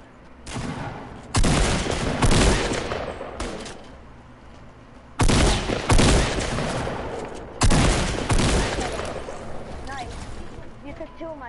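Video game gunfire, including pump shotgun blasts, comes as a few heavy, loud booming shots spaced seconds apart, each followed by a long decaying echo, with some talk in the background.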